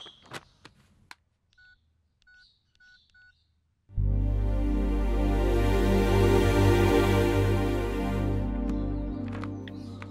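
A mobile phone keypad beeps in short, evenly spaced tones as a message is typed, followed by a long, loud sustained tone that fades out near the end.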